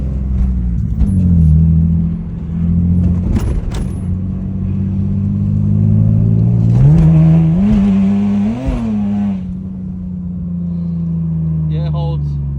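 A Lexus IS300 driving on the road after rear-end repair work, a loud close engine drone that rises as it revs and shifts and then settles, with a person speaking over it at moments.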